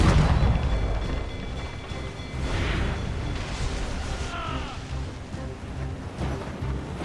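Ship cannons fire during a naval battle in the game Assassin's Creed Rogue, heavy booming blasts rolling over a constant rumble of sea and wind, with crew voices shouting under the din.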